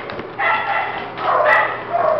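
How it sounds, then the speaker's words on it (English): Dogs at an animal shelter barking and yipping in short bursts, somewhat distant and echoing. "you hear all the doggies, don't you?"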